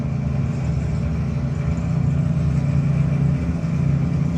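A super stock drag racing car engine rumbling steadily at a race event, a continuous deep, loud drone without clear revving changes, with no voices.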